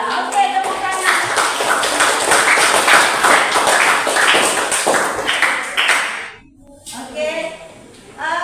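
Classroom of students clapping together, a loud, dense burst of applause lasting several seconds before stopping abruptly, followed by a short voice.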